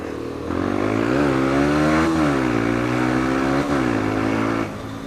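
A 125cc motorcycle engine revs loud and close, its pitch climbing and dipping through several throttle blips over a steady idle, with no talk over it.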